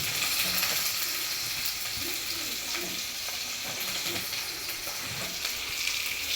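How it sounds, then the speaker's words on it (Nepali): Onion and garlic frying in a pan, a bright, continuous hiss of hot oil with faint stirring knocks underneath, close and steady without any talking. "प्याज हालिदिनु पर्यो। त्यसपछि यो लसुन अनि यसैमा हालिदिन्छु।"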